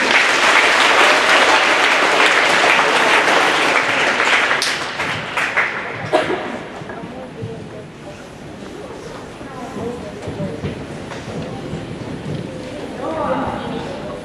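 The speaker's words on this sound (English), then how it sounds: "Let's give him a round of applause." An audience at a 2015 spelling bee applauds loudly at first, the clapping thinning out after about six seconds into quieter room noise with some talk.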